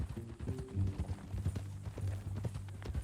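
Horse hooves clip-clop at a steady walking rhythm in the Western video game Red Dead Redemption 2, close and clear over a low ambient hum, with no one talking.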